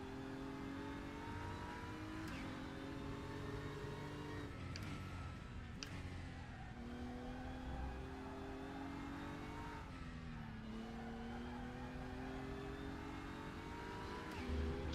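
Several DTM race cars in the RaceRoom racing game roar continuously at high revs, engine notes rising and falling through gear changes with brief tire squeal, close and loud throughout.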